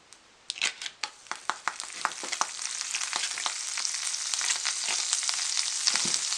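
Butter sizzling in a pan as bread for a ham steak breakfast sandwich goes in: sharp crackles and pops at first, then a steady, close frying hiss.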